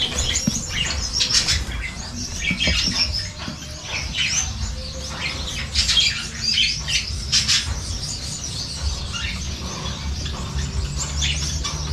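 Small rainbow birds are fitted with leg rings, producing busy, high chirps and squawks, with bursts of wing flapping and shuffling close by and no talking.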